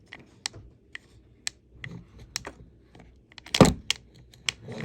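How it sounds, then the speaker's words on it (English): Sharp, irregular clicks from inside a Kirby G4 vacuum cleaner under repair, apparently from a cam latch not fully seated, with one louder rattling burst among the sparse ticks. "The clicking noise is coming from here."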